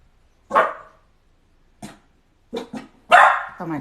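A house dog barking indoors, several sharp loud barks close by, spaced irregularly with silent gaps, ending in a quick cluster of yips and a final longer bark.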